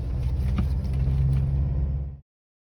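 A car rolling down a track to a beach campsite, a low steady engine rumble from inside the vehicle that cuts off abruptly after about two seconds.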